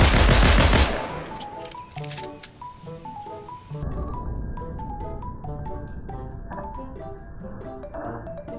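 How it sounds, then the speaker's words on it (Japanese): A Fortnite pistol fires a loud, rapid burst of shots, then quieter reload clicks follow, mixed with chiming game tones. "さあ白ピストルとリロードの速さを比べてみる"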